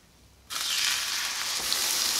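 Cinnamon French toast bread, dipped on both sides, frying in a hot pan: after half a second of quiet, a loud, steady sizzle starts abruptly and keeps crackling without a break.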